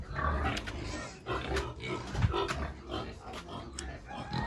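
Pigs on a family pig farm grunting and oinking close by, a steady chorus of snorts and squeals with bursts of louder calls throughout.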